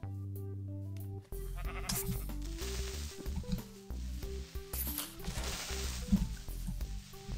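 Repeated sheep bleats in Minecraft, short synthetic calls rising over a busy electronic game soundtrack with no talking.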